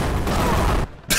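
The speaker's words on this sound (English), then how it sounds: "Oh god, explosion time!" In the video game Crystal Defense, a loud rolling blast of explosions rumbles on, cuts out abruptly into near quiet, then bursts back briefly.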